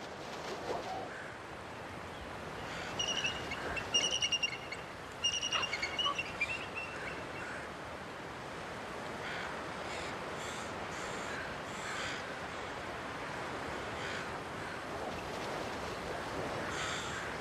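Crows cawing at a feast of leftover fish from a catch, eagles nearby, on a Haida shoreline with waves; scattered harsh calls rise over a steady wash of surf, clustered early and then thinning out.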